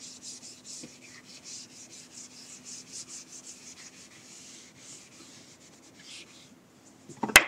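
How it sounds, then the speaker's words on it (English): An eraser rubbing out a drawing on paper, with rapid rhythmic scrubbing strokes for several seconds, close and soft, ending in a brief louder knock. "So yeah, I'll erase this."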